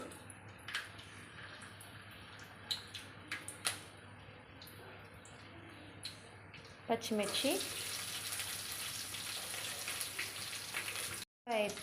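Cumin, garlic and green chillies fry in a pan for an okra chutney, first with a few scattered clinks and pops, then breaking into a loud, steady sizzle partway through that holds until the end.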